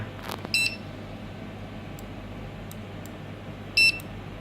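A CINO F-790WD wireless barcode scanner gives two short, sharp high beeps a few seconds apart while scanning, over a steady low room hum.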